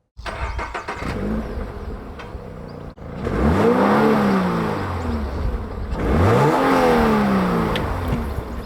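A Toyota GR86 engine cranks and fires up, then revs sharply twice, rising and falling, loud and close.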